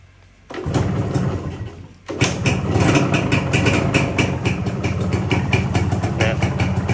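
A motorcycle engine starts and settles into a rumbling idle after a brief quiet moment, running steady and close, with a knocking, uneven rattle.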